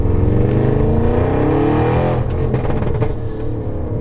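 An Audi RS6 engine runs loudly and steadily close by, with a brief throaty swell of revs partway through and no voices over it.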